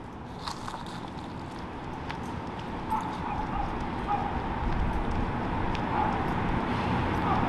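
A dog barks and whimpers nearby during an outdoor on-leash heel training session, giving short yips and barks over steady background noise while a trainer's voice is faintly present.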